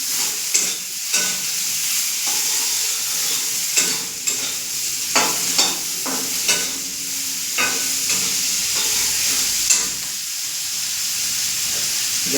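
Spices frying with turmeric and salt, a steady sizzle broken by repeated scraping stirs of a spoon in the pan, close and loud with no talking.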